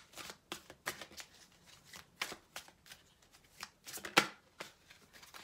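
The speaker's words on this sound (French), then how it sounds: "je vais remettre la carte et on va faire une coupe" A deck of tarot cards is shuffled and cut by hand, producing a run of crisp riffling flutters and soft slaps at an uneven rhythm, close and fairly quiet, with no talking.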